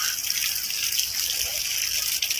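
Water pours steadily onto sun-scorched plants outdoors, a continuous gushing, splashing flow heard close and alone.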